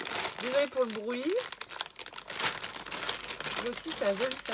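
Crinkling and crumpling of a small advent calendar gift packet being unwrapped, with dense papery rustles and tearing close up, while someone talks over it in French.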